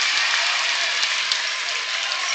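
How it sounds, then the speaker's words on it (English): Dense, continuous crowd roar and applause fill a gym at a high school girls basketball game, loud and steady throughout with a commentator's voice faintly underneath. "So the crowd noise helps out the Spartan defense."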